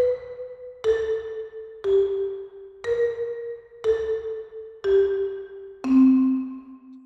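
Seven evenly spaced, resonant bell-like tones ring out one per second in a musical composition with its theme highlighted, each note decaying before the next, the last one lower in pitch.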